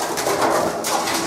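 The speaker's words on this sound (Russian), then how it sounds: "Птички летают у нас." Pigeons coo steadily near an apartment balcony, a soft continuous burble of bird calls with outdoor ambience filling the short stretch.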